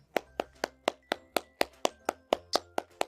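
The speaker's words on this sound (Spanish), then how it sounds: "El gordo con mugre aplaudía." Steady hand claps, about a dozen evenly spaced sharp slaps from one person, close and distinct with no talk over them.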